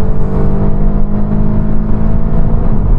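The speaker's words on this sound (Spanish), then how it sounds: "hacen que todavía suene un poco más el escape y tengamos más potencia" A Seat Cupra Black Carbon with 400 CV drones steadily through its exhaust, a loud close low hum with a constant engine tone and no one talking.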